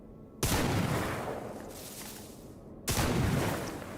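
Shotgun fire in the video game STALKER GAMMA: two loud, close blasts about two and a half seconds apart, each with a long rumbling decay.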